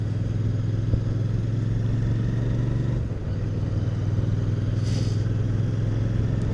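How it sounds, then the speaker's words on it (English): A Royal Enfield Bear 650 twin rides along a UK road behind a van, its engine a steady low throb under constant rushing wind noise, with a brief dip and a short high whoosh passing midway. "Hopefully you can hear the bike over the"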